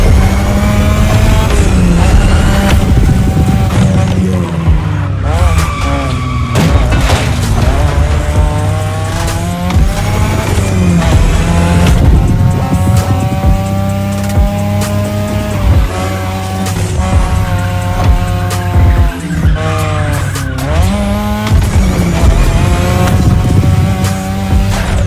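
Racing cars in The Crew Motorfest on a Japan-themed playlist scream at high revs, with loud engine whine sweeping up and down through gear shifts and repeated tire squeals, continuous and close for the whole stretch.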